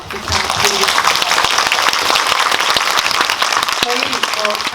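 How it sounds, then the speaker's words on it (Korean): Loud, dense applause from a cinema audience at a homecoming screening event for the Netflix series Weak Hero Class 1 cast. It holds steady throughout, with a voice briefly audible over it. "저희 클래스 원 친구들에게 큰 박수 부탁드리겠습니다."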